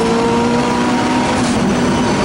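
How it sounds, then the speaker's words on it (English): A Mitsubishi Evo 8 race car with a stroked 2.2 litre engine accelerates along the main straight of a circuit with a loud, sustained, high-revving engine note and a steady harsh drone. No voices are heard. "So the Evo 8 comes down the main part of the circuit."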